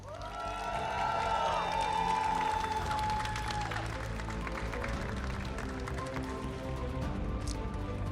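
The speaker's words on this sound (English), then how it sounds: "Let's give a huge round of applause for Caspian Pike" Audience applause and cheering at a Pokémon GO regional championship in Indianapolis, a steady wash of clapping from a large hall crowd that fades gradually, with a faint whistle or tone early on.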